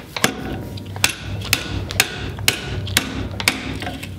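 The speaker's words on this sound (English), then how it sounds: "I'm gonna put some wood in the jaws and then clamp the bench vise down" A bench vise is clamped down onto a caster shaft with wood in its jaws, giving sharp, evenly spaced mechanical clicks about every half second over a low background hum, close and fairly loud.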